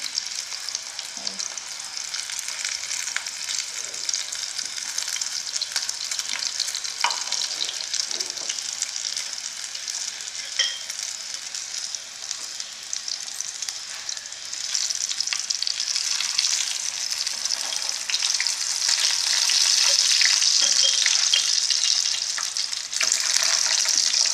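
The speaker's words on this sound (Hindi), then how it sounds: "तो पैटी हमारे फ्राई हो रहे हैं" Chicken burger patties fry in oil, producing a loud, continuous bright sizzle that holds steady for the whole stretch and swells slightly in the later part, with no talking.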